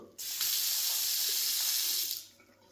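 Tap water runs into a sink in a farm apartment in the Italian mountains, a steady hiss that starts abruptly, holds for about two seconds and then cuts off, close and alone.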